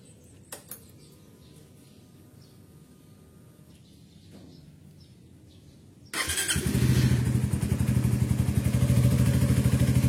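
A Suzuki GSX-S150 motorcycle sits quiet at first, then its engine starts abruptly and settles into a loud, steady, close running rumble.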